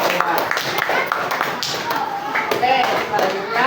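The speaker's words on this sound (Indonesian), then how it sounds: "Tepuk tangan lagi. Hebat, hebat, hebat." Children in a classroom clap their hands together, a busy run of quick, uneven claps and taps, close and lively, with voices talking over them.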